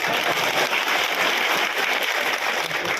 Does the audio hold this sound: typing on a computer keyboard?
no